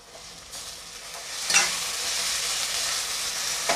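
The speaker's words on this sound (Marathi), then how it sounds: "आता मी टोमॅटो टाकून घेते।" Tomatoes hitting softened onions in a hot pan, a sudden sizzle burst followed by continuous frying hiss and light stirring scrapes, close and steady without any voices.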